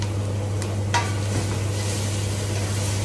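Soft scraping and stirring of risotto with porcini, rosemary and thyme in a pan over a steady sizzle, with a low constant hum underneath; no voices.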